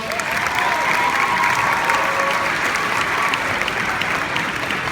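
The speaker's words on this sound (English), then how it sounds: "Give them a round of applause." Loud, dense audience applause for a strength team performance, an even roar of many hands clapping with scattered cheers and voices underneath.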